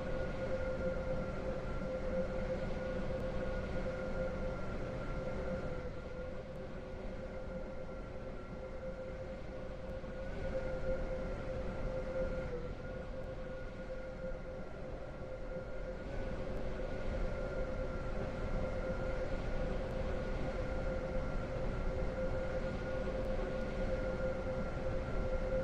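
A Class 385/1 train on the Stepford Central to Leighton City route in Roblox SCR hums steadily as it pulls in, a constant electric drone with tonal whine layers, moderately loud and unbroken, no voices.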